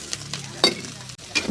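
Fish frying in hot oil with garlic and chili while being stirred in a pan, soft sizzling under several sharp scrapes and clinks of a utensil against the pan.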